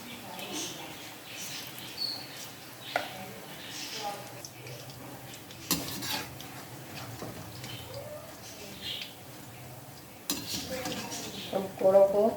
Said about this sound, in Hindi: हम पकौड़ों को उल्टा रहे हैं, ताकि दूसरी तरफ से भी ब्राउन हो जाए, अच्छी तरह तल जाए